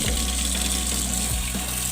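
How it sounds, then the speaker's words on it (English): Water pours steadily into a bowl of red lentils set to soak, a continuous close splashing rush with small gurgling shifts and no talking. "So I'm just soaking it in water before I put it on the cooker."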